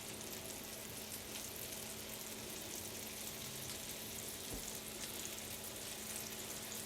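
Meat sears in butter in a hot pan, giving a steady, dense sizzle that holds at an even level throughout, close and continuous, with no talking.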